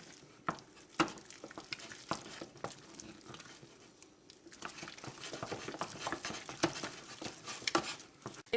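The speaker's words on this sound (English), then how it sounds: "It will take a little bit of time after each egg to stir it all up." Eggs stirred into cooled eclair choux dough by hand, giving soft irregular sticky slaps and scrapes, moderately close, with no talking.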